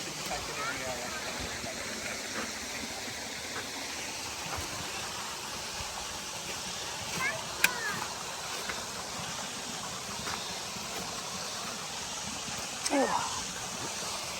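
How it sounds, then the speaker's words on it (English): A waterfall at Big Woods State Park, Minnesota, gives a steady, broadband rush of falling water that runs without a break, with a couple of short spoken exclamations over it. "I'm leaving the waterfall."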